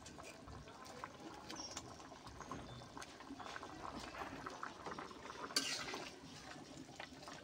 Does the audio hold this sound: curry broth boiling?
yes